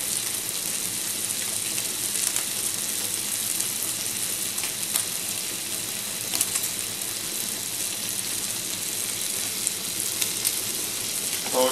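Sausage meat sizzles steadily in a pan with only a little oil, a dense, even crackle and spit that holds at a constant level throughout with occasional sharper pops.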